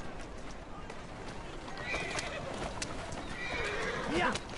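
A horse in Assassin's Creed Syndicate whinnies twice in high, wavering calls amid clip-clopping hooves, close and clear, while someone talks over it.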